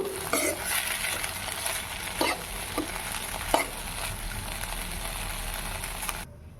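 Tender tamarind leaves fry in a pan with a constant close sizzle, broken by a few sharp spatula scrapes and taps against the pan before the sound cuts off.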